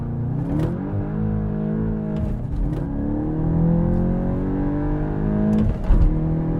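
A 2023 VW GTI 40th Anniversary with a 7-speed DSG pulls hard through the gears from inside, its engine note climbing steadily with brief shift breaks, loud and close with no talking.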